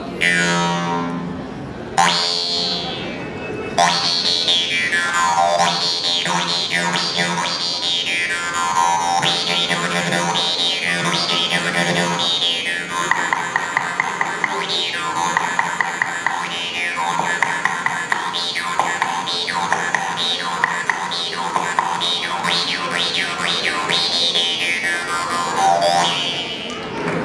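A loud, brassy electronic-sounding instrument plays swooping, sliding phrases with dense tones, continuing steadily for nearly half a minute.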